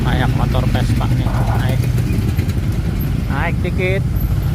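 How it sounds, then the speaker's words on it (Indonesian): Vespa motor scooters run through congested traffic on a road toward Sentul, a steady engine drone close by with brief rising revs, while people talk over it. "Banyak motor Vespa nih"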